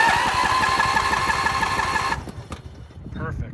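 A Bolens riding mower engine turns over with a newly fitted starter, giving a loud, close rhythmic churning that cuts off abruptly partway through, with someone talking alongside.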